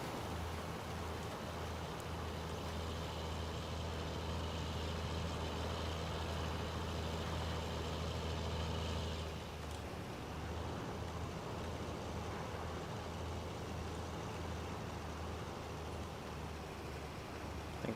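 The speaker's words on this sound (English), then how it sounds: "John Deere 4640. This tractor here, pretty similar in horsepower." A John Deere 4640 tractor of about 155 horsepower drones steadily in a farming video game, a continuous low engine rumble with a slight shift in tone partway through.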